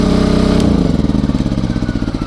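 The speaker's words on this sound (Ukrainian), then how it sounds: "Сама стабільна і оптимальна робота цього генератора це 3 кВт." Champion 3.5 kW gas-petrol generator in an enclosed housing running loud and close, a steady throbbing engine drone with a regular pulsing beat that shifts slightly partway through.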